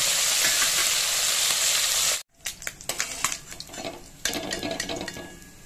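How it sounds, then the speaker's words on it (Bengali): Small mourola fish sizzle and crackle in hot oil in a pan, a loud steady fry that breaks off briefly, then comes back with scattered pops and clinks of a utensil. "বাকি মাছগুলো আমি দিয়ে দিলাম। এইগুলোকেও একইভাবে ভেজে তুলে নেব।"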